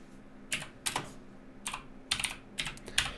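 Fingers type on a computer keyboard in short bursts, with quick clusters of crisp clicking keystrokes separated by brief pauses, fairly close and alone in a quiet room.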